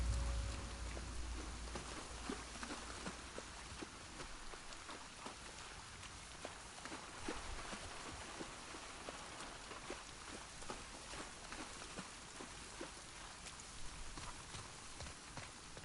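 Steady rain in the video game The Last of Us Part II, a soft continuous patter with scattered drop ticks, faint and even throughout, no talking.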